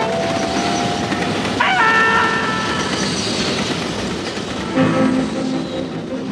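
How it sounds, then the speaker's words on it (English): A train passes as a sound effect in a radio drama, a steady rumble of rail noise with rhythmic clickety-clack from the wheels and brief high tonal squeals or horn notes, loud and continuous throughout. "there's another train coming"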